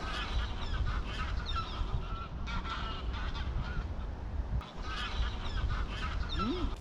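Geese or ducks honk and call repeatedly near the water, mixed with a steady outdoor background of birds at a moderate distance.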